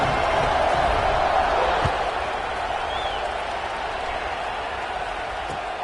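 Football stadium crowd during an Oregon versus Michigan game, a broad steady roar of cheering that swells at first and then settles to a lower hum, with a commentator's voice over it.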